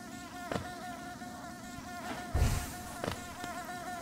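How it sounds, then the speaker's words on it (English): Buzzing bees in Hollow Knight: a steady insect drone with layered tones, plus a few short swells and a louder burst around the middle, with no talk. "There's a lot of bees here."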